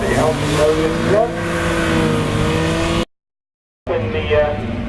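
An Alfa Romeo Sprint race car's engine revs at a sprint event at Crystal Palace, rising and falling harmonic tones over a busy background, then a short dropout of silence before the engine noise returns.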